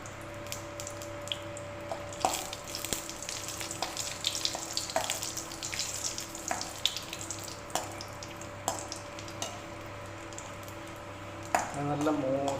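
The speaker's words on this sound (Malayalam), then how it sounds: "വെളിച്ചെണ്ണ നല്ല ചൂടായിട്ട് വരുമ്പോൾ അതിലേക്ക് നമ്മൾ ഉണക്കമുളക് ഇടുക" Dried red chilies sizzle in hot coconut oil in a pan, a faint crackling fry with scattered pops and clicks and a steady background hum, swelling at the end.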